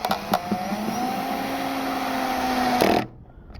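Cordless power driver on its lowest torque setting drives a screw for a garage door opener keypad into stucco, one steady whirring run of about three seconds that stops abruptly, loud and close.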